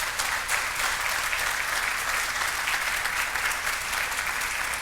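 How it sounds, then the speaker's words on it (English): An audience at a public announcement by New York's governor breaks into sustained applause, a thick, even roar of many clapping hands that stays level and continuous throughout. "Let's give him a round of applause for what he has done."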